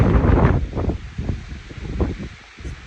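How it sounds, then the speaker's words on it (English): Gusty wind buffets the microphone with low, rushing roars that swell and ease, strongest at the start, with a faint rustle underneath, at about 8,700 feet near the Pacific Crest Trail in the San Jacinto Wilderness. "It's windy"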